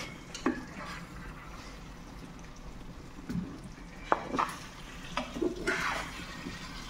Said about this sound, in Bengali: চিকেন রান্না হচ্ছে